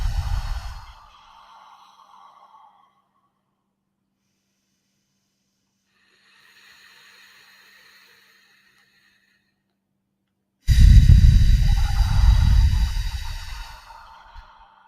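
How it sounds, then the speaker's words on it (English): Slow, deep relaxation breaths drawn in and let out through the nose, close and loud, with a long exhale at the start, a faint breath midway after near silence, and a strong full inhale-exhale near the end. "let's take 3 of the 3-2-5 relaxation response breaths"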